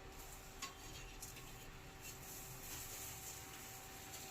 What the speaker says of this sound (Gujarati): તળેલી રોટલી બની રહી છે, જોજો છે ને આવી રીતે તળાય રોટલી